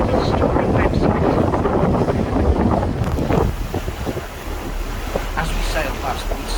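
Mersey ferry under way past Woodside, with steady engine rumble and water wash under heavy wind buffeting the microphone, loud and continuous throughout, with a faint voice at the start.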